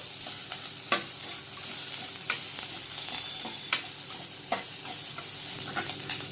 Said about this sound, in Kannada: ಇದ್ರ ಜೊತೆ ಶುಂಠಿನೂ ಹಾಕೊಂಡು ಫ್ರೈ ಮಾಡ್ಕೋಬೇಕು